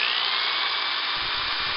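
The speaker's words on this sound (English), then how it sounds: "I'm going to drill a hole right here in the top of the cap so that we can slide our tubing down in it." A power drill with a 5/16 bit bores a hole through the top of a plastic cap for a DIY brake bleeder, a steady close whine that holds evenly throughout with no talk.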